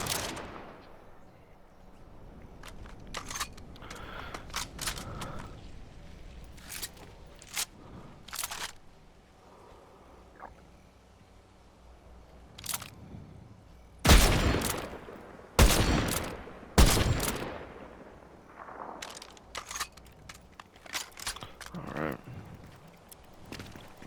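Gunfire in the Fortnite battle royale video game, a few loud close shots in quick bursts standing out over quieter distant shots, footsteps and background game sounds, with no talking.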